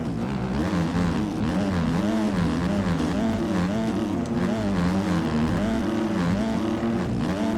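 A 450cc dirt bike engine ridden through sand on a race track, its revs rising and falling in a steady wavering drone, loud and close throughout.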